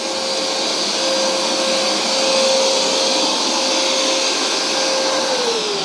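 A loud, steady mechanical whine and motor roar of a Hoover SmartWash Pet carpet cleaner running continuously with its hose in use, with a sustained tonal hum that dips slightly near the end.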